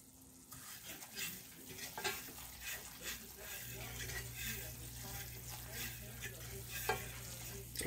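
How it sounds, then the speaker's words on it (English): Cajun gumbo roux stirred in a pot on the stove, with a close scraping rhythm over a soft continuous sizzle. A steady low hum joins partway through. "Yeah, so you just basically keep stirring."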